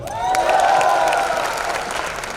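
Audience applause at a team training session at an academy, a full burst of clapping and cheering that swells quickly and then slowly fades.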